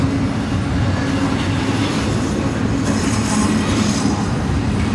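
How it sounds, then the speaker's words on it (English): An eastbound train near Horseshoe Curve, Pennsylvania, with burning brake shoes rumbles past steadily and loudly, with a continuous roar and a faint metallic squeal of wheels throughout. "This is an eastbound train."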